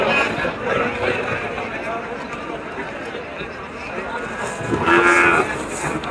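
Heifers mooing at a busy Bengali cattle market, several low calls rising over a steady crowd murmur and background chatter, with one louder, nearer moo toward the end.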